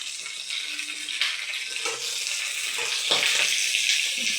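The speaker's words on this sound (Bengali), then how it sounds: "খুব ফোটে আর কি, চিটকায়।" Pointed gourd pieces frying in hot oil in a nonstick pan, a close, steady hiss of sizzling broken by sharp crackles and spatters throughout, with no talking.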